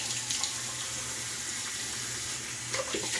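A bathroom tap runs before a shave to wet the face, giving a faint, steady stream of water splashing into a sink, with a few brief louder splashes near the end and no talking.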